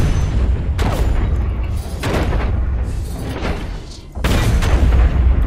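Heavy mech weapons fire in the online shooter Hawken, with loud booming shots repeating in a roughly regular rhythm, close and dominant, over a rumbling low end.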